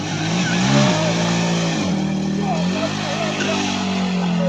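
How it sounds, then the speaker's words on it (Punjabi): A 100cc Chinese United motorcycle rickshaw, apparently loaded with sand, strains its engine in a steady, loud, droning rev with wavering pitch as it climbs out of a canal. "ਅੱਜ ਰਕਸ਼ਾ ਨਹਿਰ ਚੋਂ ਨਿਕਲਦਾ ਦੇਖੋ ਕਿ ਰਕਸ਼ਾ ਕਿਵੇਂ ਨਿਕਲਦਾ 100 ਸੀਸੀ ਮੋਟਰਸਾਈਕਲ"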